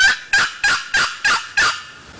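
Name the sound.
turkey yelp and cluck on a box call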